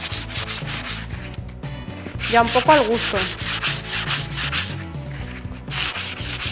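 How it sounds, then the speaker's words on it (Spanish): Rhythmic rubbing of sandpaper on wood, sanded along the grain, repeated back-and-forth strokes close up, with a brief spoken phrase partway through. "Vamos moviendo la lija al sentido de la veta"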